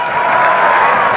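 A large crowd claps and cheers continuously at a political speech, a dense, loud wash of applause with whoops mixed in.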